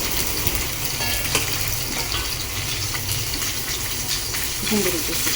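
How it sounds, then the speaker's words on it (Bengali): Water goes into a pan of cooking hilsa fish, giving a continuous sizzle and bubbling frying noise with some clattering of stirring, heard alongside background talk. "মা ইলিশ মাছে জল দিয়ে দিচ্ছে"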